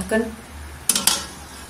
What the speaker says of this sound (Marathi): गरम केल्यानंतर इथे ही चालणी ठेवायची पाण्यामध्ये